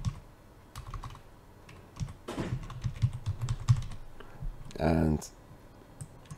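Rapid clicking of keys on a computer keyboard while a password is entered into intercom management software, a burst of close keystrokes with a louder clatter near the end and a brief spoken word.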